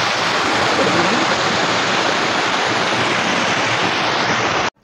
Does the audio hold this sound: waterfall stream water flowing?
yes